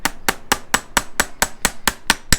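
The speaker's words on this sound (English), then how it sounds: "you can take a nail and hammer it right into a horse's hoof" A hammer drives a nail into a horse's hoof with about eleven sharp, evenly spaced metallic strikes in quick succession, close and loud, with no talking.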